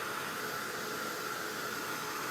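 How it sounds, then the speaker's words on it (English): Heat embossing tool blowing hot air while drying a chalk paste craft transfer, a steady, even fan-like hiss held at constant level throughout, close by and alone. "This is a heating tool for embossing."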